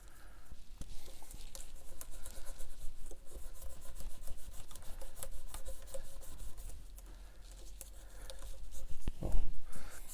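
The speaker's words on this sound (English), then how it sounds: "Now the frets are all polished up." Guitar frets on a Vintage Icon Series V6 being polished with an abrasive, a close steady rubbing and scraping in repeated back-and-forth strokes, fairly quiet and without talk.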